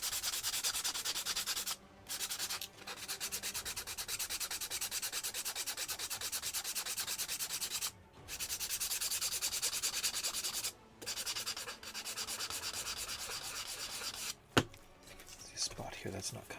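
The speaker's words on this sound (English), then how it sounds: "let's get some of the manual sanding done" Steady abrasive rubbing of hand sanding on a commissioned prop, continuous broadband scratching with brief pauses, close and fairly quiet, with a small knock near the end.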